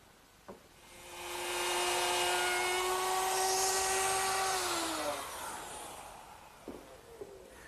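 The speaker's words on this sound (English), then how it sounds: "I ride the router against the straight edge to cut the tenon in the right place." A woodworking router fitted with a 1/2-inch spiral bit cuts a tenon along a straight edge, a loud steady high whine rising after a click, holding for several seconds, then winding down with a falling pitch.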